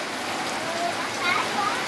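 Rain falls steadily, a continuous close hiss of drops on surfaces with faint voices in the background.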